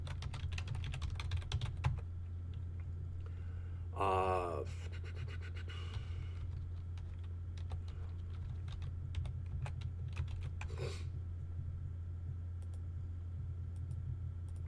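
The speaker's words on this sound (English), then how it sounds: "So when I come in here and I type in" Keys clatter on a computer keyboard in quick uneven bursts, close and fairly soft, over a steady low electrical hum in a quiet room, with a couple of brief louder scrapes.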